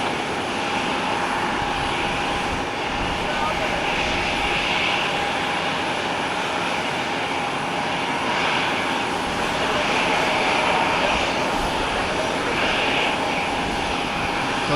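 Engines of an Alaska Airlines Boeing 737 MAX 9 at an airport, a steady broad roar with a sustained whine, swelling slightly in the middle and holding at a moderate distance.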